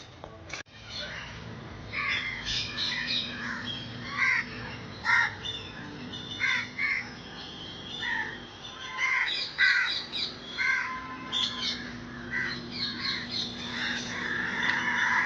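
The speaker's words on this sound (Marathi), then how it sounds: "मला पक्ष्यांचा आवाज येऊ लागला" Crows cawing repeatedly in the Malabar Hill forest in Mumbai, harsh calls arriving in irregular bursts at moderate distance, with other birds faintly in the background.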